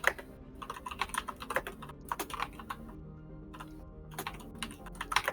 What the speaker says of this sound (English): your typing is incredibly loud at the moment